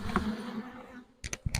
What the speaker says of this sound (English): But first, you gotta shake the bees